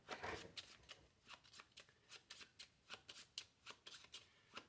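A deck of playing cards being shuffled by hand during a card game, a quiet, close run of rapid riffling and tapping bursts in an even rhythm.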